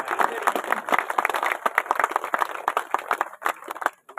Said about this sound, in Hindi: तालियों से अभिनंदन है, स्वागत